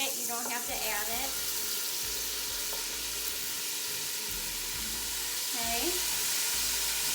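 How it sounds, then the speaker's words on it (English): Minced garlic and crushed red pepper sauté in a pan with a continuous bright sizzle, while a voice briefly speaks over it. "Saute that around for a minute."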